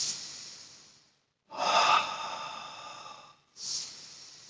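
Breath noise during a Pilates exercise at home: a soft airy exhale fades out, then after a short silence a louder, strained exhale lasts about two seconds, followed by another short breath, all close and with no talking.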